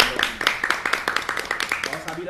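A small group claps briskly for a couple of seconds, steady rhythmic hand claps close by, with no talking over them.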